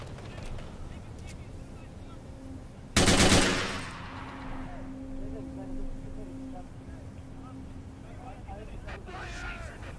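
A single loud artillery blast in the WWII strategy game Men of War, a sharp boom with a long decaying rumble, then faint scattered battle noise and distant gunfire while someone talks over it.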